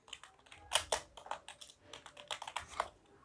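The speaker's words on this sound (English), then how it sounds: "Like I type here anything, I type my password." Password being typed on a computer keyboard: a steady run of close, crisp key clicks with a few heavier strikes, no talking.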